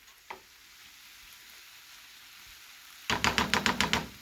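Peppers and onions roast in a skillet with a soft, low sizzle, a faint knock near the start, then a quick run of sharp, rhythmic tapping and scraping bursts at the end.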